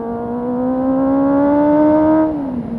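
A motorcycle's exhaust revs up close, the engine note climbing steadily for about two seconds before dropping off sharply as the throttle is released; loud, alone with no talk.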